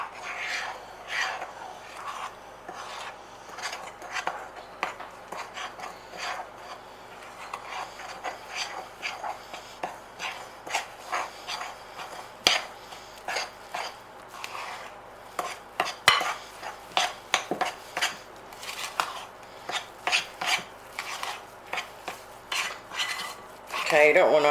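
A spoon stirs and scrapes through thick chocolate mint brownie batter in a bowl, giving a steady run of close, uneven clinks and rasping strokes for the whole stretch with no talking.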